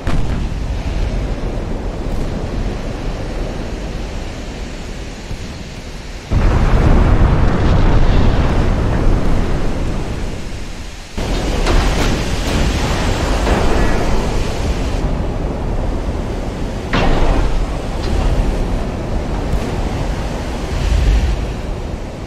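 A torpedo strikes a burning, flooding German dreadnought, the Großer Kurfürst, in a naval battle in Ultimate Admiral Dreadnoughts, with sudden heavy booming surges over a constant roar of sea and wind.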